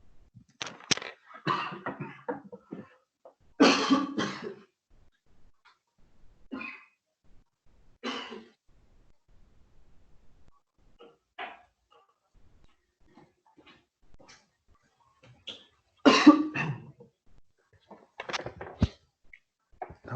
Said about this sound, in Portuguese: Nossa, deu uma tosse aqui.